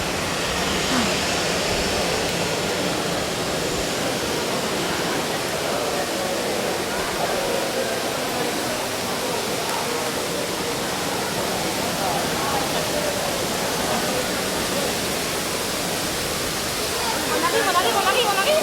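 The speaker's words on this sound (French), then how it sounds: "Il y a une cascade." A waterfall at Tokyo DisneySea pours in a steady, broad rushing roar that fills the whole stretch without pause, swelling slightly near the end.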